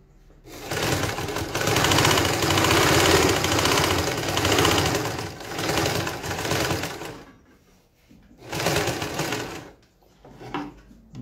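A GN1-6D overlock sewing machine stitching through several layers of fabric runs with a loud, steady mechanical whir for about seven seconds, stops briefly, then resumes in shorter bursts, close and without speech.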